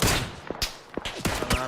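Gunfire in a shooter video game rings out as sharp, separate shots, about half a dozen cracks spaced irregularly over under two seconds, fairly close and loud with quiet gaps between them.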